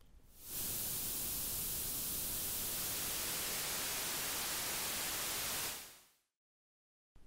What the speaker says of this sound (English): the effective loudness of this shaped noise is lower than plain white noise.